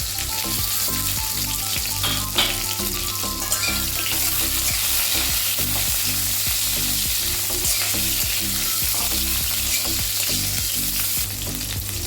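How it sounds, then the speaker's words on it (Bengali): Vegetable stalks fry in hot oil for Bengali shukto, a steady, loud sizzle running throughout with occasional stirring scrapes, no voices. "ডাঁটাটা একটু ভাজা ভাজা হয়ে গেলে মশলাটা দেবো"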